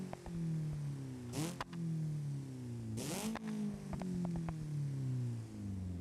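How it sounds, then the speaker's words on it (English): A rally car engine in the BeamNG driving game revs repeatedly, its pitch sweeping up and down, with two sharp exhaust bangs and a scatter of smaller pops and crackles, close and alone. "those exhaust pops, bangs kind of make sense"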